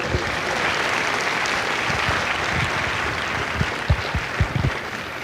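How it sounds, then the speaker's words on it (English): Steady, dense applause from a large audience at a Marine recruit graduation at MCRD San Diego fills the whole span, with a few louder claps standing out near the end. "would you join me in a round of applause for our combat instructors and our recruiters?"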